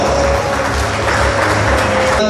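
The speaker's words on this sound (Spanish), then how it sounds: "Hacemos reiterativo el aplauso." Applause from a crowd at a senior citizens' parade fills the whole stretch, a dense patter of clapping hands that stays fairly even throughout.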